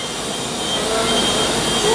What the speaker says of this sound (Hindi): अपनी कोयम्बटूर जयपुर सुपरफास्ट एक्सप्रेस यहाँ पे अपना क्या बोलते हैं डिपार्चर लेती हुई अपने से आगे जा रही है